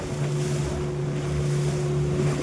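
A boat motors across the open sea, its engine droning a steady low hum beneath rushing wind, waves and spray slapping close by, loud and continuous with no talk.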